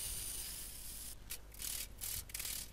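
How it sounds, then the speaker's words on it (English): Grinder working the edges of a folded steel hammer shank gives a continuous harsh, hissing abrasive rasp, which breaks into short rhythmic strokes in the latter half. "Then grind the edges to make them flat."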